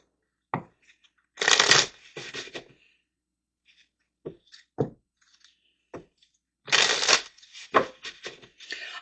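Tarot cards being shuffled by hand, with two long riffling bursts separated by quieter taps and soft card handling, close and clear with no talking.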